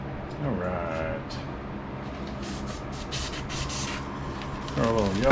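An airbrush hisses steadily as it sprays paint onto an O scale Divco Borden's milk truck model, a soft continuous spray with short bursts, while someone talks briefly at the start and end.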